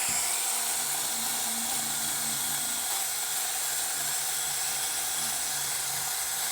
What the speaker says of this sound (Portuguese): Com a Politriz eu estou usando uma lixinha aqui 180.